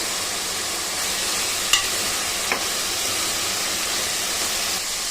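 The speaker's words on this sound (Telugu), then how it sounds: "ఇప్పుడు మనం కట్ చేసి పెట్టుకున్న టమాటా ముక్కలు కూడా వేసుకుందాము." Cut tomato pieces drop into a pan of frying broad bean curry, giving a steady, even sizzle with two faint soft taps.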